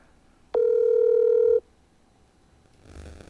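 A telephone call connects with a single clean, steady tone lasting about a second, followed by faint line hiss and a soft rustle of noise.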